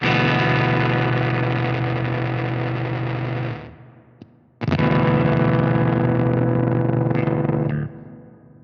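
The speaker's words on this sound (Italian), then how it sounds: "con settaggi estremi comunque si ha anche una certa distorsione del segnale" A guitar runs through a Fractal Audio compressor block with an extreme transient setting, its loud sustained tone gritty with distortion, cutting off and then returning for a second sustained burst.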